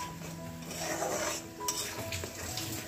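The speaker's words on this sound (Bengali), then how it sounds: "মশলা কষানো চলছে।" Spices being sautéed in a pan for chicken kosha, quiet sizzling beneath repeated scraping and clinking of a utensil against the pan, close and low in level.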